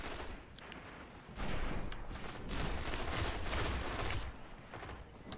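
Rapid bursts of gunfire from a gun in a video game crackle close and loud, with the firing growing denser and heavier midway through before easing off, and no voices heard.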